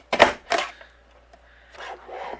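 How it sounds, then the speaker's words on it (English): Cardstock card being trimmed down to three inches with a paper trimmer: two quick scraping slices close by, followed after a pause by a softer pair of sliding strokes. "I'm going to trim this down to 3 inches."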